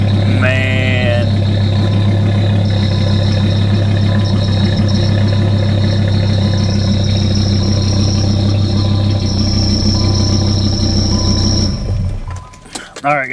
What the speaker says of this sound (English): I'm not gonna leave it running because something sounds like it's squealing and chattering back here